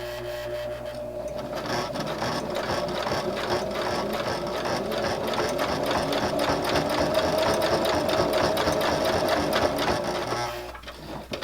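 A sewing machine stitches fabric for a jar lid gripper, running loud and steady with a fast, even needle rhythm for about ten seconds before stopping.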